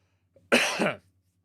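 A single harsh cough bursts out once, close and loud, lasting about half a second before silence returns.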